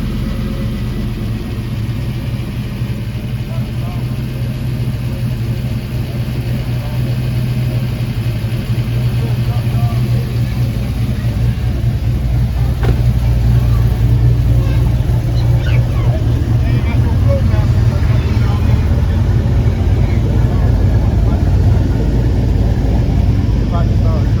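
A BTR-sponsored 5.3 V8 in a 1986 Cutlass project car runs steadily, a deep low rumble at idle that swells slightly louder partway through, with a person speaking faintly underneath.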